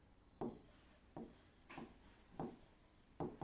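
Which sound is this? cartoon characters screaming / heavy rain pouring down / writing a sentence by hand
writing a sentence by hand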